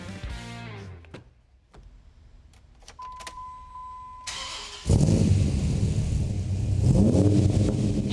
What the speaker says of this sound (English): So let's fire this thing up. Crank this dude up.